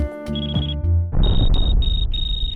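An avalanche transceiver checker box at a ski resort emits a series of short, evenly spaced electronic beeps, loud and close over rumbling outdoor noise.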